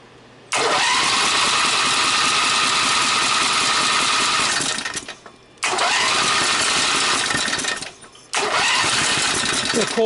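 A go-kart engine fitted with a new idler pulley fires up from cold, then runs loud and close at a rough idle, cutting out briefly twice before catching again each time.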